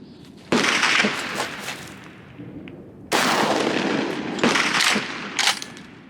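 A Garaysar Fear-109 bullpup pump-action shotgun fires outdoors at clay targets, giving about three loud, close blasts spaced a second or more apart, each trailing off in a long rolling echo.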